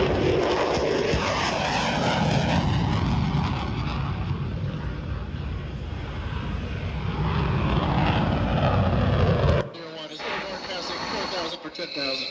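Playback of an aircraft taking off and climbing fast, from the ground to 20,000 feet in 15 seconds: a loud, sustained engine roar that cuts off abruptly, followed by radio chatter and talk.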